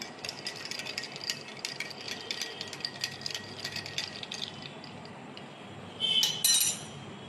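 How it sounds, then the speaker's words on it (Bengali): A spoon stirs water into an aam panna mango drink in a glass, making rapid light clinks against the glass for several seconds. The clinking then stops, and a short, louder rattle follows near the end. No one speaks. "এর মধ্যে একটু জল দেব দিয়ে এটাকে একটু গুলে নিতে হবে"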